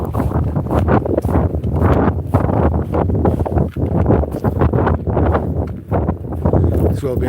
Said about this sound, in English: it won't be windy like it is here with the wind coming in from the sea